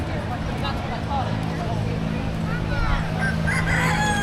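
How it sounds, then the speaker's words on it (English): Rooster crowing with chickens clucking at a county fair in Michigan, with steady crowd murmur and voices chattering around the birds throughout. "Got a chicken down there."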